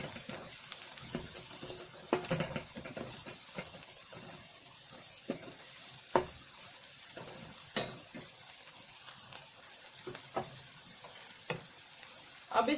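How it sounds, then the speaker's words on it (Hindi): Turmeric, red chilli and salt being stirred into a tomato salan base in a pan, quiet sizzling broken by repeated spoon scrapes and taps at an uneven pace. "इन सारे मसालों को मिक्स कर देंगे"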